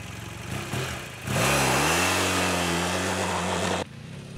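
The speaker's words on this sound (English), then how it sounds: "Let's get the bike for a spin, and let's see how it does off-road." A BMW F800GS motorcycle with an 800cc engine, ridden off-road, revving up from a steady idle into a loud, sustained close-up roar that rises slightly in pitch before cutting back sharply.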